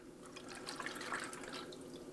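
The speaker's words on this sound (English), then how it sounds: "Pour that in our pitcher." Chocolate milk pouring into a pitcher, a steady liquid splash and trickle at moderate level, heard alone for about two seconds.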